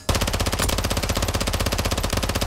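Rapid, sustained automatic gunfire from a Call of Duty Modern Warfare 3 team deathmatch on the Derail map, loud and continuous with dense rattling bursts throughout and no talk.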